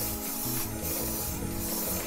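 A shine coat is sprayed from an aerosol can onto a quad's drive chain in a couple of short, close hissing bursts over a faint rubbing background.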